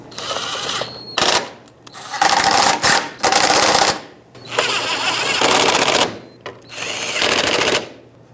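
Power tool snugging splash shield mounting bolts on a 2010-2013 Kia Soul, loud rattling impact bursts in several separate runs of about a second each, broken by short pauses.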